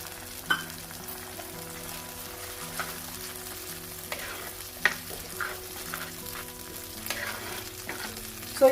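Masala mixed with curd steadily sizzling and frying in a pan, a soft, close bubbling hiss with occasional light stirring clicks and no voices.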